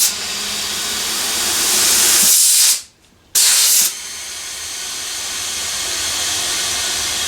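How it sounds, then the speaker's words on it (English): Compressed air rushes into a motorcycle tire to seat the bead on a Honda Africa Twin CRF1000L fitted with a MotoZ Tractionator Adventure tire, a loud steady hiss that breaks off briefly midway and then resumes. "So I'll have to put some more air in and get that bead on."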